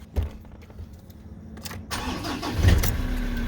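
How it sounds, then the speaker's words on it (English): A Ford Ranger engine fresh from a fuel filter replacement cranks with a few quick clicks and clunks, then catches at about two seconds and settles into a steady, close rumbling idle. "now I'm going to start the car"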